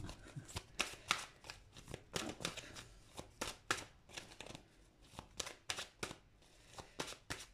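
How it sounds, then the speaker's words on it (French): Oracle cards are shuffled and drawn by hand, giving close, soft papery riffles and flicks in uneven bursts, faint and intimate with no voices. "une dernière petite carte avec un oracle"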